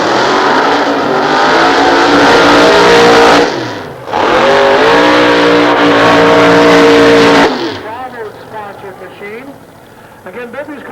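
Two blown, alcohol-injected nostalgia drag racing cars at Sears Point thunder off the line in two loud, roaring bursts with a brief dip between them, then fade away while an announcer talks over the noise.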